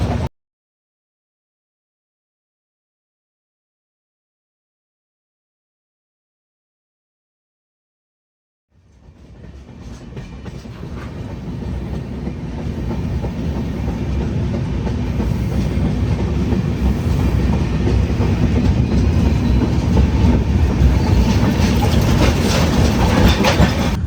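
Near silence gives way to the Mumbai LTT to Kakinada Port Express crossing a rail-only railway bridge near Rajahmundry, swelling into a loud, sustained roar of wheels and wagons with steady clickety-clack.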